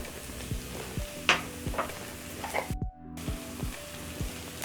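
Green capsicum stirring in a hot pan with paprika for sausage rice stir-fry, a moderate sizzle broken by a few sharp spatula scrapes and a brief silent gap, under a low background tone.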